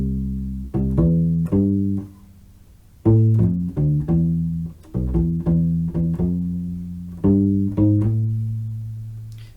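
A deep, round U-Bass ukulele bass plucks a syncopated reggae riff of short and sustained notes with brief pauses between phrases, played solo and close.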